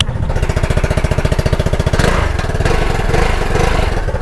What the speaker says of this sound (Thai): เสียงท่อก็ประมาณนี้